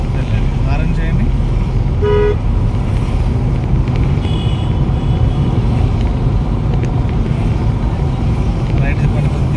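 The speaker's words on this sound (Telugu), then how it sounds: "హారన్ చేయండి." A short car horn toot sounds once amid city traffic, heard from inside a car during a driving lesson, with engine rumble and wind noise throughout and people talking.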